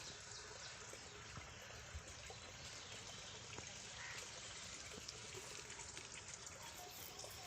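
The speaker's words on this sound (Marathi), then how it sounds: "हे बघा मित्रांनो पाणी चालू केले आता" Water runs from a pipe to irrigate chili seedlings on a farm, a faint, steady hiss of flowing water with a few small splashes throughout.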